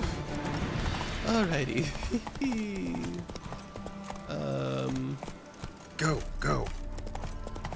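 Roach the horse gallops in The Witcher, with steady rhythmic hoofbeats running under someone talking.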